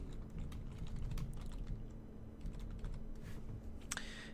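Steady, close typing on a computer keyboard, with a Control V paste among the rapid clicks and a couple of louder key hits near the end over a faint hum.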